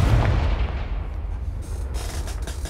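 Confringo fire spell from Hogwarts Legacy, a loud, close burst that rolls into a rumbling roar and fades over about three seconds, with no talk.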